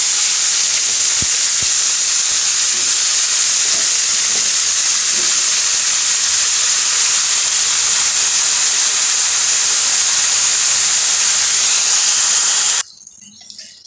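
Green chillies and chopped ganga vayili greens fry in hot oil with a loud, steady hiss and crackle that runs unbroken for about twelve seconds, then cuts off abruptly into near silence.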